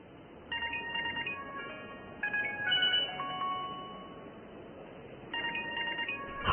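A phone rings in a domestic drama scene, a synthetic electronic ringtone playing a repeating melodic phrase in bursts, fairly quiet and steady, with no talking over it.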